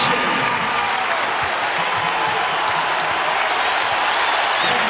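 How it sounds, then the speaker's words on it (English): A packed arena crowd at a Marquette vs Creighton college basketball game at CHI Health roars steadily with cheering and applause, loud and sustained throughout. "the crowd getting loud at CHI Health"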